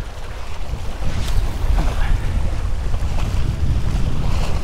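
Steady wind roars over the microphone at a fishing pier on the Texas City Dike, with water lapping below; loud, continuous gusting throughout, no one talking.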